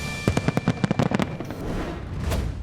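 A fireworks show pops off in a quick series of sharp crackling bangs, followed by a broad, sustained roar from the crowd.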